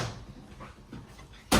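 Kitchen cabinet doors in a 2026 Forest River Sabre 37FLH RV shut with a single sharp close knock at the end, after a moment of faint handling noise nearby.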